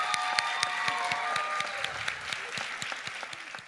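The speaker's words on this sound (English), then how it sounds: "a round of applause for our regional finalists." An audience applauds regional finalists at a state poetry recitation competition, a steady, fairly close round of clapping with individual claps standing out, sustained throughout.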